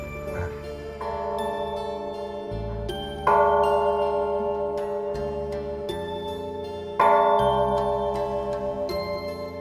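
An old cast temple bell at Phúc Khánh pagoda rings with two deep, resonant strikes whose long, humming tones slowly decay and overlap, sounding close with no talk.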